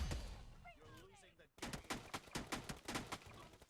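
Gunfire from a pump-action shotgun in the battle-royale game PUBG Mobile, heard as a rapid run of sharp loud bursts in the second half, after a quieter stretch with voices.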